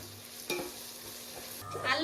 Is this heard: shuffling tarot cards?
no